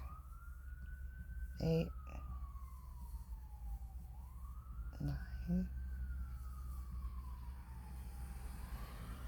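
A faint ambulance siren wails outside, rising and falling in long slow sweeps far in the background while a person counts aloud nearby.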